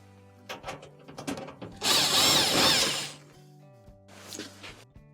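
Power driver backing Phillips machine screws out of a dryer front panel: close whirring bursts with ratcheting clicks and handling knocks, one sustained spin in the middle and a shorter one near the end.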